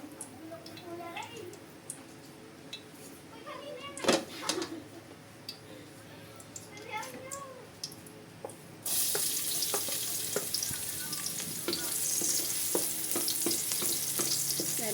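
Garlic sautés in hot oil in a pan for a spaghetti dish, a close sizzle that swells from about nine seconds onward, with clinks, stirring and faint speech in the quieter opening.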